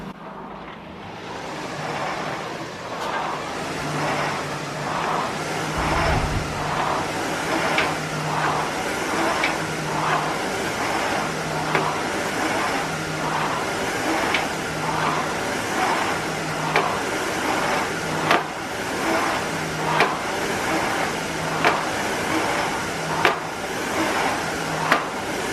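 Concept2 Model D rowing machine running on resistance level 4, giving a continuous whooshing fan drone that swells and ebbs with each stroke, with faint periodic clicks, close and steady with no talking.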